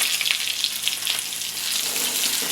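Curry leaves hit hot oil in a pan while a jackfruit curry is being cooked, giving a bright, steady sizzle with a few sharper spatters, close and fairly loud, and no talking.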